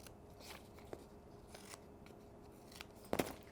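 Scissors trim the corners of a strip of kinesiology tape, heard as a few quiet snips and crisp cuts, with a sharper close cut near the end and no talking.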